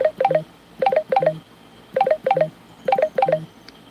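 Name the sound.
phone call coming in on a phone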